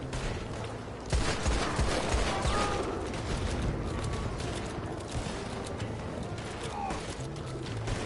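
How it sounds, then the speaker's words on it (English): Scattered rifle shots ring out in an online Red Dead Redemption 2 firefight, a sniper firing among bursts of other gunfire over continuous game ambience, with a person talking over it. "Oh, the sniper is shooting."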